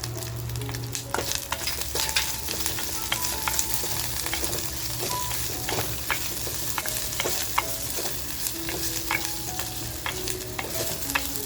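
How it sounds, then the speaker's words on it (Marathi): Dried Bombay duck fish fry with a pinch of turmeric in a clay pot, giving a steady crackling sizzle with repeated scraping and clinking of a spoon stirring against the pot, loud and close with no talk. "मग आपल्याला हे बोंबील आहेत ना ते हलके फ्राय करून घ्यायचे. फ्राय करताना थोडीशी हळद टाकते बघा."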